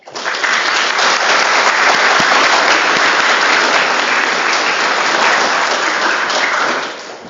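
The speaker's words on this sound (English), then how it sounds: "please help me with applause to welcome Professor for his talk" A lecture-hall audience at the University of Latvia in Riga breaks into loud, sustained applause welcoming a professor's talk, dense and even throughout before fading out at the close.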